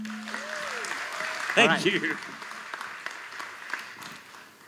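Conference audience at Malaysia Social Media Week 2016 applauding a panelist: light, scattered clapping under a brief spoken thanks from the stage, with a low tone and a sliding electronic sound early on, fading toward the end.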